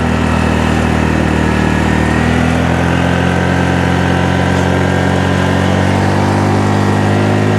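A Honda Navi motorcycle engine runs loud and steady close by, a continuous mid-pitched drone with no voices over it.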